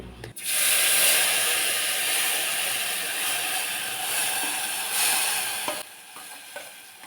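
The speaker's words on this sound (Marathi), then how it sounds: "एकदम मस्त अशी दणदणीत फोडणी बसले" Garlic tempering with red chili powder sizzles loudly in hot oil in a pan, a dense continuous hiss that swells and fades, with light scraping toward the end.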